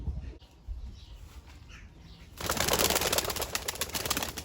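Ala pigeons shuffle in their loft with faint coos and rustling, then a sudden louder burst of flapping and scratchy movement fills the rest of the moment.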